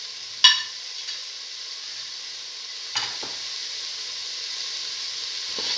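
Bottle gourd and two red chillies hitting a hot pan, giving a sharp sizzle at first, then a steady soft frying hiss with a few stirring clatters.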